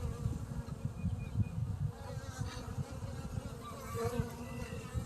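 Honey bees buzzing during a hive check, a dense, steady low drone of many insects close by, with no speech over it.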